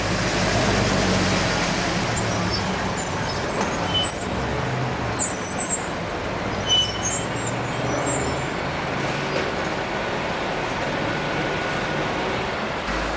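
London Routemaster bus RML 2401 on route 38 drives past amid steady street traffic, a broad continuous engine and road rumble with no clear pass-by peak.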